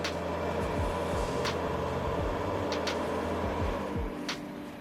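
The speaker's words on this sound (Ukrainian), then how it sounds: "трохи почекаємо, чи буде вмикатись вентилятор. Чуємо, знову працює." A laboratory power supply's cooling fan runs with a steady, low whirring hum throughout at a fairly quiet level, with a few faint clicks and ticks over it and no talking.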